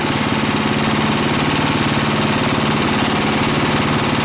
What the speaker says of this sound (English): Oh yeah, there's something wrong in that motor, I think.